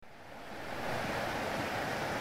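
Full streams of running water rush steadily on a rainy hike through woods, a broad continuous wash of sound that swells slightly at first and then holds loud and even.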